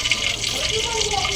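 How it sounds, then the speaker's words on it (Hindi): Water from boiled chickpeas is drained and poured off in a kitchen, giving a steady close splashing rush that runs unbroken throughout. "हम इनको अच्छी तरह ड्रेन कर लेंगे और इस पानी को गिरा देंगे"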